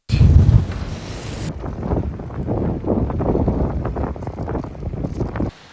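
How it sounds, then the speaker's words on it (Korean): Strong wind buffets the microphone at a freshwater fishing spot, where waves slap against the bank. Loud gusty rumbles and splashes churn throughout, then cut out abruptly at the end. "이거 어제 오늘 진짜 바람이 장난 아닙니다"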